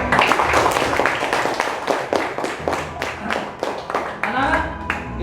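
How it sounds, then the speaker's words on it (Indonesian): Children in a classroom clapping together in quick, rhythmic bursts of applause, close and loud for several seconds, with a voice talking over the clapping. "Tepuk tangan buat saya"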